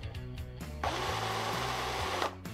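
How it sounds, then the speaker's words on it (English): An old Black & Decker variable-speed drill spins a foam paint brush used as a stirring paddle, giving a steady close motor whine for about a second and a half between quieter clicks and handling noise. "obviously you can change the speed of a drill to make it slower or faster"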